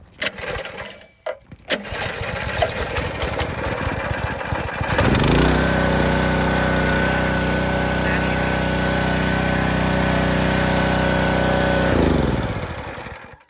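Predator 3200 PSI gas pressure washer engine pulled into life after a few rough rattling strokes, then settling into a loud steady drone that runs for several seconds before abruptly dropping off, with no talking over it.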